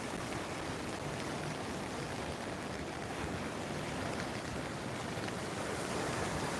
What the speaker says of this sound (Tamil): பின்னாடிலாம் மழை பெஞ்சிக்கிட்டே இருக்கு